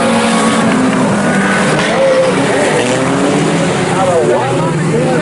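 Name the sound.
IMCA sport compact race cars racing at Salina Speedway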